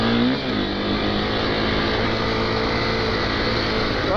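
A motorcycle ridden off road, either an enduro or a supermoto, gives a steady loud engine drone throughout with rising revs, close by and with no talk.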